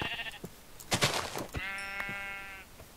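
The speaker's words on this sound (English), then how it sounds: "Ah, sheep." A sheep in the Minecraft survival game gives one drawn-out, wavering bleat, clear and moderately close, among soft game clicks and footsteps.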